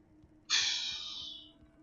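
Birds attack in the Alan Wake video game, heard as a sudden bright, fluttering screech that bursts in midway and fades over about a second, with no talk over it.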